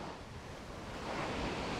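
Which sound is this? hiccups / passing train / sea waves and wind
sea waves and wind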